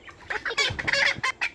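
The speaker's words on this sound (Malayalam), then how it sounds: "ഒരു കോഴി അടക്കൽ ചടങ്ങ്" A hen clucks in short, repeated bursts, close and fairly loud, with brief pauses between calls and no talking over it.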